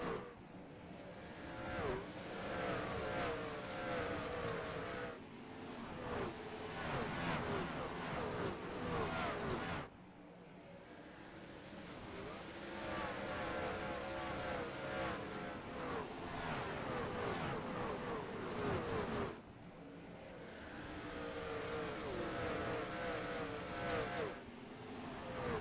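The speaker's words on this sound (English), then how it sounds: "All the trucks driving by right now." Racing trucks roar past at Bristol in the iRacing game with a continuous, layered engine drone that swells and fades in long waves, and a commentator's voice sits partly under it.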